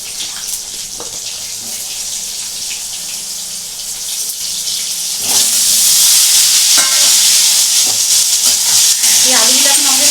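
Potatoes frying in a pan tempered with cumin seeds, a loud hissing sizzle that swells sharply partway through, with scattered stirring clatter.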